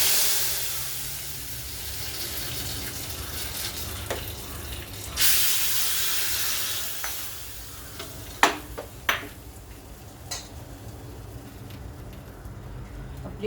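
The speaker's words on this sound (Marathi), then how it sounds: "ते घालूया फोडणी." Hot garlic tempering is poured into kadhi and sizzles, a bright, loud hiss that fades over several seconds, followed by a few sharp clinks of a utensil.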